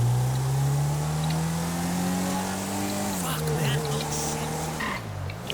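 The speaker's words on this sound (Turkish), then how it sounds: "Bak motor sesini dinle" A BMW engine in Grand Theft Auto 5 revs loudly and steadily, its pitch climbing and dipping as it shifts, with a brief dip near the end.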